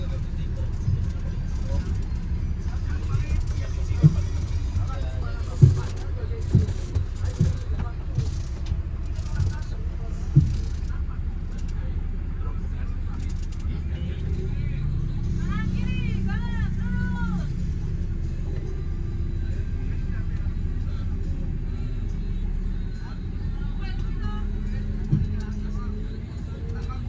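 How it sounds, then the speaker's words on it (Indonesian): A sleeper bus on the Jakarta to Madiun route drives onto the toll road, a steady low engine and road rumble inside the cabin with occasional knocks and a person talking over it. "ini sekarang bis kita udah berangkat dan langsung masuk tol ya"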